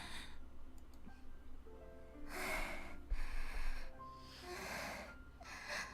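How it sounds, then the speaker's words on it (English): Heavy, ragged panting in the Chaos;Child visual novel, several loud breathy bursts with snorts and wheezes, close and alone with no talk. "The only sound in the dark room was their panting."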